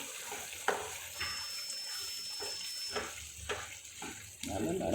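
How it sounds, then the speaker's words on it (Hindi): Aflatoon mithai mixture stirred continuously in a hot pan in a home kitchen to break up lumps, with soft scraping and sizzling, occasional spoon knocks against the pan, and a steady background hiss. "इसे हमें चलाते रहना है ताकि इसमें कोई गुठली ना बने, और बनेगी तो हम इसको तोड़ते रहेंगे।"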